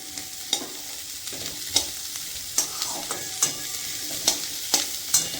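Gravy-style chilli chicken frying in a pan: a constant sizzle with sharp clacks from a utensil stirring every half second or so, close up and with no voices.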